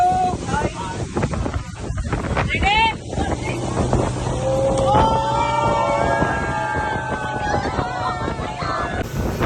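A boat crosses open sea on a trip to Pregnant Lady Island in Langkawi, its engine droning under heavy wind buffeting, with people shouting and talking excitedly throughout.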